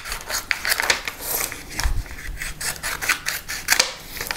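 A scalpel blade cutting out a cabochon shape on a cutting mat: a close series of short scratchy scrapes and rasps in an uneven rhythm, with a soft thump partway through.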